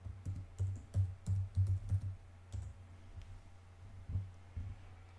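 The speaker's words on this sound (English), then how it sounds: "So start typing Synaptic." Typing on a computer keyboard while searching for Ubuntu's Synaptic Package Manager: a quick cluster of close, soft key clicks, then a few scattered taps after a pause, with no talk.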